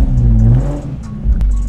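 A car engine idles and revs close up, a steady low rumble that dips briefly and then rises again.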